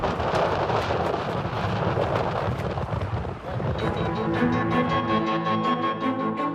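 A ferocious storm lashing a tent camp at an active volcano, a loud continuous roar of wind and heavy rain with deep rumbling underneath and no letup.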